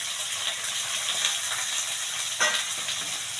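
Tomatoes dropped into a hot pan with green chilli, red chilli and onion for egg chilli, giving a steady close sizzle and frying hiss with a brief clatter near the end.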